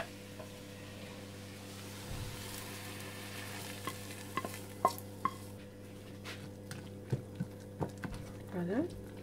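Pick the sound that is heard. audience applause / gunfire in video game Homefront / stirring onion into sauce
stirring onion into sauce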